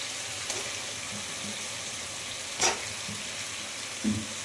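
Chicken fries in oil with spices and green chillies, a soft, steady sizzle broken by a few brief clinks and stirring knocks.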